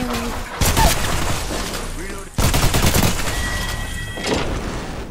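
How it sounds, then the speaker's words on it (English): Gunfire in a multiplayer video game, with rapid bursts of shots and crashing impacts in two loud waves, mixed under excited player chatter. "There's shots in this direction."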